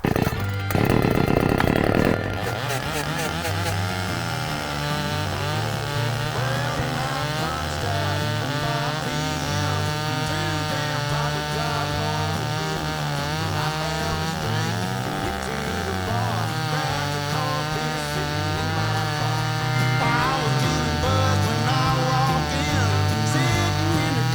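A Dnipro-M DSG 25H petrol chainsaw cuts through a thick, dry log larger than its bar, running loud and close with a steady high-revving snarl that dips and rises under load throughout.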